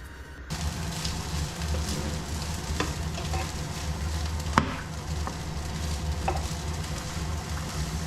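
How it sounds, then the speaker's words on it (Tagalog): Tuna frying in a pan for sarciado, a steady close sizzle and crackle throughout with a few sharper pops and spatters along the way. "isasalang ko na itong tuna. Iprito muna natin"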